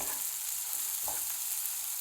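Steady sizzling and crackling of onions frying in a hot pan, with a couple of brief scraping stirs, no voices.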